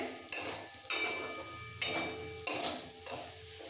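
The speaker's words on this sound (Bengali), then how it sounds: "আলুটা সেদ্ধ হওয়া পর্যন্ত এবার নাড়াচাড়া দিয়ে ভেজে নিতে হবে" Potatoes with spices, alongside cauliflower, frying in a pan: a sizzling hiss punctuated by five rhythmic scraping strokes of a spatula stirring, each fading before the next.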